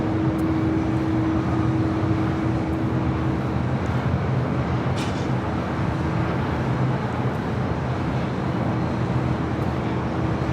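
A Delta Airbus A380 taxis at LAX, heard as a steady, distant jet engine rumble under a broad airport roar, with a faint whine held for the first couple of seconds.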